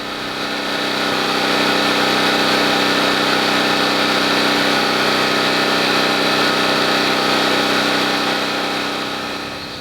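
A Generac XG8000E portable generator engine runs steadily at close range during a voltage adjustment, giving a loud, even mechanical drone that holds for the whole stretch with no talking.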